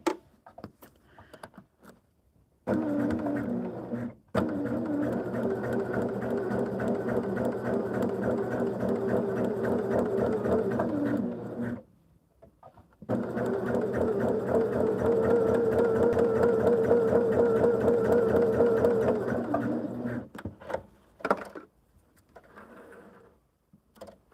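Sewing machine stitching along a marked line on quilt blocks, loud close mechanical hum in two long runs of several seconds each, separated by short pauses and ending with brief stops and starts.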